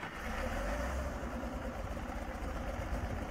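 An old tractor engine in Farming Simulator 22 idles with a low, steady rumble and a slightly uneven throb, close and continuous with no talking.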